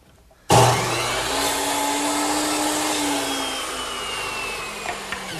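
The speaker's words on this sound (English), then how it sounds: "I'll cut them right here on the miter saw" A miter saw cuts wooden rails for a bedside table, starting abruptly with a loud whine that holds steady for about five seconds as the blade spins and slices, with no talk.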